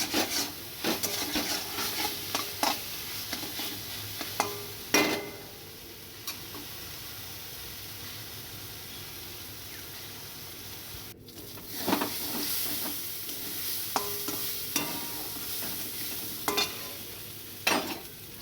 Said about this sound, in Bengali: তারপর যে সেদ্ধ করে রেখেছি সোয়াবিনটা এর মধ্যে দিয়ে আবার কষাতে হবে